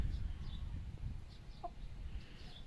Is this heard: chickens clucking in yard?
yes